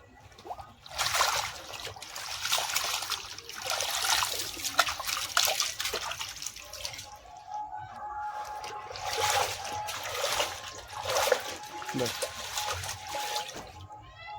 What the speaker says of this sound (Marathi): या आमच्या जाऊबाई अळूच्या पानाला स्वच्छ पाण्याने धुवून घेत आहेत.